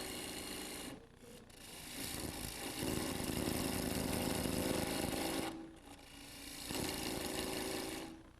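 A tool cuts grooves into a clay cake plate, probably turning on a pottery wheel, with a steady, faint scraping drone that swells and eases as the tool is pressed and lifted.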